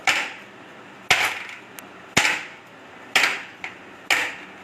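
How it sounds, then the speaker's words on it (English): A muffin tray filled with batter is banged on a kitchen counter five times at a steady pace. Each knock is a loud metallic clack with a short rattle that fades, and there is quiet room tone between hits. "now you need to pat it on the desk or the platform itself"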